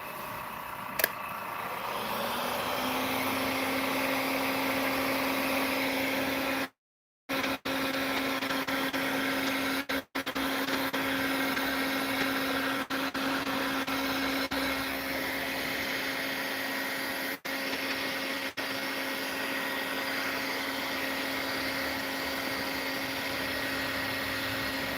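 A heat gun blows on fishing lures with a steady, moderate whirring hum that holds throughout, broken once by a brief dropout and a few small clicks, with no talk.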